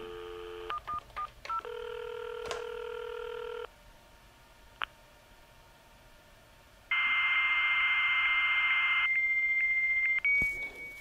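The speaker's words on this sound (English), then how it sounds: "So we've got a dial tone again." A steady telephone dial tone with quick touch-tone dialing beeps, followed by a loud sustained electronic modem tone and a brief burst of line noise, from a Novation CAT acoustic-coupler modem calling a BBS.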